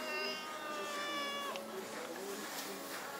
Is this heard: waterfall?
no